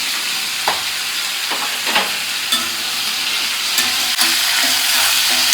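Tomatoes, garlic and cardamom sautéing in a pan produce a loud, continuous frying hiss, punctuated every second or so by sharp scraping stirs close by, with no speech.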